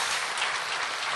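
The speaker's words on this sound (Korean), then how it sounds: "다시 한번 감사의 박수 부탁드리겠습니다" Brief burst of audience applause at a commemorative ceremony for the 10.4 inter-Korean summit declaration anniversary, dense and steady clapping from a crowd filling the whole moment.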